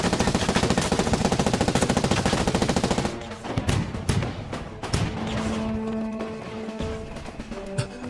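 Loud, rapid bursts of automatic gunfire crackle continuously from a war drama battle scene, then give way to scattered single shots, impacts and rumbling battlefield noise.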